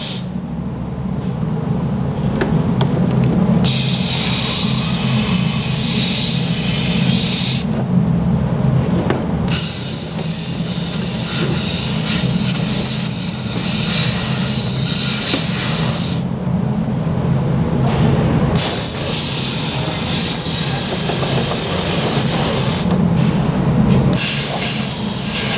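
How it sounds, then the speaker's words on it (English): Rust inhibitor sprayed from a wand along the length of a plastic vehicle panel during Mopar rust proofing: close, loud bursts of hissing spray with short pauses between them, over steady low mechanical noise. "we're going to apply the rust inhibitor above that panel"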